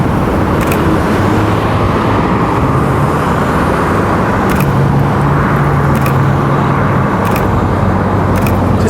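Cars moving through a road intersection, a loud steady roar of engines and tires continuing throughout, with a few faint ticking sounds on top and no talking.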